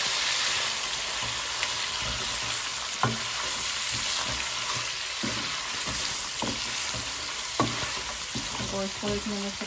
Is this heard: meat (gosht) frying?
yes